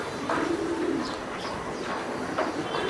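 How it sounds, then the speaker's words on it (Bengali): Racing pigeons in a loft coo in soft, low, repeated calls against a gentle background murmur, fairly close by. "এই যে কবুতর উঠতেছে"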